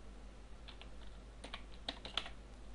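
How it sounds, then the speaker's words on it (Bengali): Quiet keystrokes on a computer keyboard as a ping command is typed, a short irregular run of light clicks with a couple of sharper taps near the end, heard alone at low level. "আমি এখানে লিখে দেখি পিং স্পেস সৌরভ"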